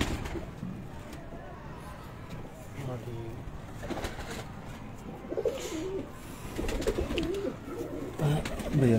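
A Sialkoti pigeon coos in soft, low, repeated phrases, with someone talking over much of it and faint chirps in the background.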